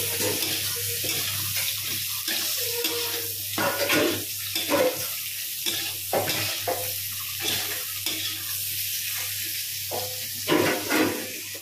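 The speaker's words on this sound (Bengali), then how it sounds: "পটলটা ভাজতে বসিয়ে দিয়েছি।" Pointed gourd (potol) fries in a pan with a constant sizzle, broken by repeated scraping and stirring knocks of a utensil, close and fairly loud with no talk.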